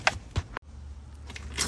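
Keys jangle near a 1997 Kenworth T600 truck with a Cat 3406E engine, a few quick metallic rattles followed by a short hush and softer handling noises.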